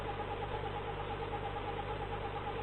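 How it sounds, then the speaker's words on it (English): A 1940s diesel locomotive engine turning over and settling into a steady, droning rumble, continuous and close with a constant low hum throughout. "To start the engines, press the start buttons one at a time."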